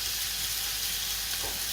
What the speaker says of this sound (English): That's sizzling well, isn't it?